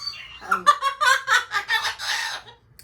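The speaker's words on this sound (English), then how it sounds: "You can see she can be pretty loud. She is a highly intelligent bird." A loud bird at a nature center calls close by in a rapid run of harsh, squawking cries, each burst following quickly on the last.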